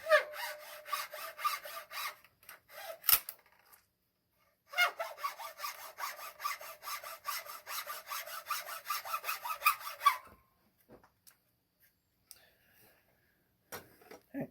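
Knife scales clamped in a vise are cut with a hand saw, in two bursts of fast rhythmic rasping strokes separated by a pause, then a few faint scrapes and taps.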